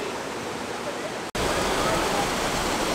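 Jogini waterfall near Manali, a steady full rush of falling water heard close, constant broadband roar broken by a split-second dropout midway.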